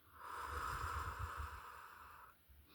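A single slow, breathy exhale during a breathing exercise swells steadily, holds for about two seconds, then fades away, close and soft.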